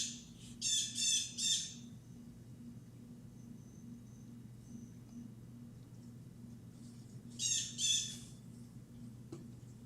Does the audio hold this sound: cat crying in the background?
no